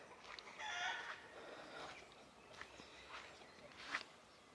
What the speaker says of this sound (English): Animals are getting very noisy all of a sudden. The sheep, chickens.